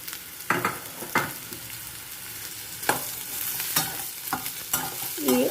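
Onions sizzle in hot oil for snake gourd curd chutney (potlakaya perugu pachadi), with a spatula scraping and stirring through the pan in repeated strokes over a steady frying hiss.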